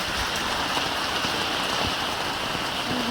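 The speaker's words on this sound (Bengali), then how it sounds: "দেখবেন কত বৃষ্টি দেখুন" Heavy rain pours outdoors near a market street and overflowing drain, a dense, steady hiss of drops striking surfaces with no pauses, loud and close.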